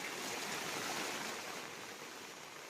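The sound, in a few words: floodwater rushing through streets after heavy rain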